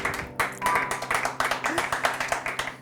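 Sparse, uneven clapping from a small Italian television studio audience, a handful of hands striking at irregular intervals with gaps, close and moderately loud, while a voice talks over it.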